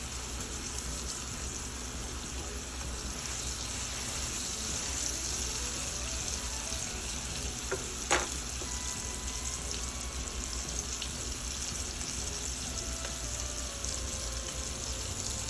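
Thick tri tip beef searing in hot oil in a pan, a steady dense sizzle and crackle that holds evenly throughout, with a brief clink partway through and no talking.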